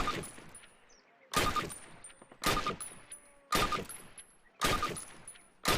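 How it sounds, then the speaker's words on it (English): Five evenly spaced rifle bursts at a target in the original Call of Duty, each a loud crack with a ringing tail, separated by short quiet gaps with faint background noise. "Approach the fence and fire 6 rounds at your target."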